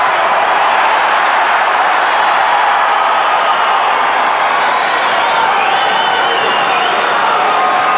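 Hockey arena crowd cheering during a lopsided 6-1 game, a steady broad roar of many fans that holds at an even level throughout, with no clear voices standing out.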